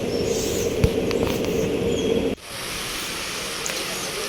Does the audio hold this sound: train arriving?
yes